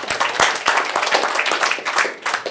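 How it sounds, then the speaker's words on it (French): Applause from an audience greeting the Decathlon CEO at an evening business club event: dense, steady clapping from many hands, fairly loud and sustained, with sharp individual claps standing out through the wash. "tonnerre d'applaudissements"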